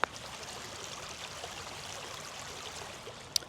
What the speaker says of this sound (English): from the little creek here